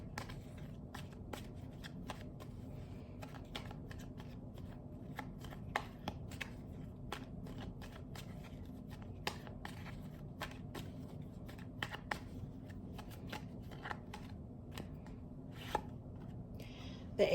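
Tarot cards are shuffled by hand in a quiet room, producing a long run of soft, rapid riffling flicks and taps at an uneven rhythm.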